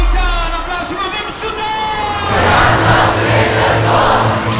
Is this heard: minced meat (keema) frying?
no